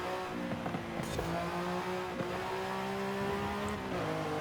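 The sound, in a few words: car accelerating through corners in the Forza Horizon 5 video game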